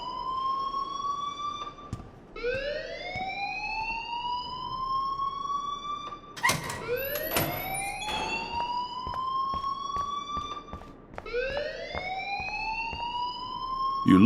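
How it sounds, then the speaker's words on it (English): Electronic school alarm in the video game Life Is Strange, a loud rising whoop repeating every few seconds with sharp clanks and bursts in between, no voices. "please turn off that alarm since that's your job"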